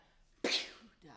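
A single sharp sneeze, close and abrupt, bursting out of near silence during an orchestral conducting workshop, followed briefly by a quiet voice.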